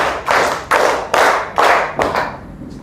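Children in a classroom clap along with their teacher, giving five sharp, loud group claps in a steady, evenly spaced beat.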